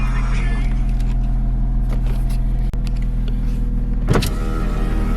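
Factory electric power windows on a Mazda RX7 FD3S Touring X whir steadily under a low engine rumble, with a sharp click near the middle and a brief louder motor surge toward the end.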